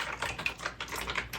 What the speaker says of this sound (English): I'm just going to push on all the keys to kind of pump out any soapy water that's in them.